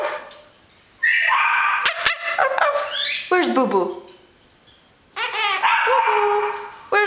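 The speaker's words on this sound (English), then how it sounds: "Are the puppies barking?" Puppies barking and yipping in a house in short bursts with whimpers between, fairly close, while a person talks over them.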